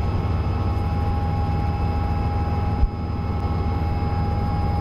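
Steady, loud rotor and engine drone from inside a climbing Robinson R66 helicopter, constant throughout with one brief thump near the middle.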